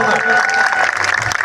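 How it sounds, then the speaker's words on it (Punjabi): An audience claps at a live religious gathering in Punjab, loud, dense applause mixed with crowd noise, heard close for a brief burst. "ਮਾਰੋ ਫਿਰ ਤਾੜੀ ਜ਼ੋਰ ਨਾਲ"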